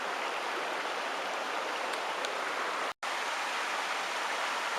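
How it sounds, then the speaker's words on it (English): A small bush creek on a forest circuit walk tumbles over a big drop, giving a steady, close, broadband rush of falling water with no voices. "Stood right on the little creek just now that's just going over a big drop."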